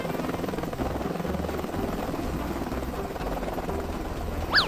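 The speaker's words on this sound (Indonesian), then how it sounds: "ini siapa yang parkir helikopter tiba-tiba di sini?" A helicopter nearby gives off a continuous, fairly loud rotor drone, ending in a brief sharp chirp, with no voices.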